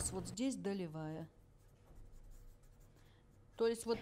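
Pen marking lines and notes onto a fabric pattern piece for a dropped-shoulder evening dress, faint scratchy strokes in a quiet gap, with someone talking just before and after.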